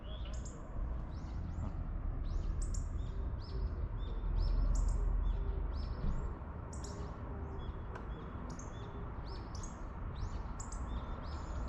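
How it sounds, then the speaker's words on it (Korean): Outdoor birdsong, several birds chirping and trilling in repeated short phrases over a steady broadband background hum, moderately near and continuous throughout. "새 소리가 건너다니는 것 같기도 하고"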